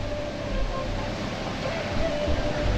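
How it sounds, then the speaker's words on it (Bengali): Water rushes down rocks at Bamni Falls in Purulia, a continuous broad roar with wind buffeting the microphone. "ঝর্নার যে একটা আওয়াজ সেটা কিন্তু পাওয়া যাচ্ছে"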